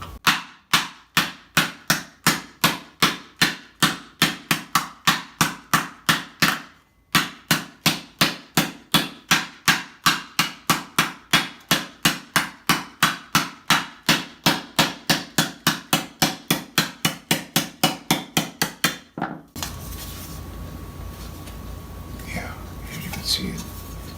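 Steel armor greaves being hammered to planish out dents, a fast, even run of sharp metallic blows close by, broken by one brief pause, then stopping into quiet room noise near the end.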